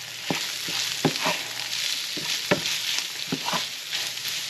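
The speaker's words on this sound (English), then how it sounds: "I'm just going to stir all that." A spoon scrapes and knocks against a frying pan in irregular strokes while stirring Thanksgiving dressing, which gently sizzles underneath, close by with no talking.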